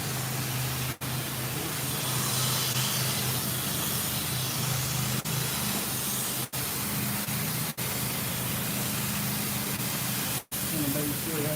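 A pressure washer rinses in the rain with a loud, steady spray hiss that runs almost the whole time, broken by a few very brief pauses.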